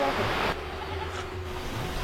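River water pours over a stop dam near cave sites, a steady broadband rushing wash that stays continuous throughout, louder in the first half-second then settling to an even roar, with low wind rumble underneath.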